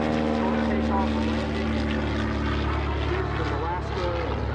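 Propeller airplanes, a long line of Cessnas, roll past in the EAA AirVenture 2018 general aviation parade, their loud, steady engine drone close and continuous beneath an announcer's commentary.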